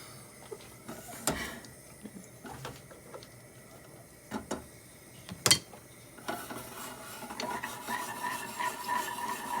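A utensil stirs melting food in a cooking pot on a home stove, making intermittent close scrapes and light clinks with a few sharper knocks against the pot over a quiet background.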